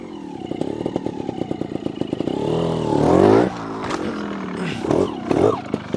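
A Sherco SHT 300 Factory trials motorcycle engine running in third gear, its steady pulsing note rising into a loud revving surge, then dropping and blipping again in short throttle bursts, up close with no talk.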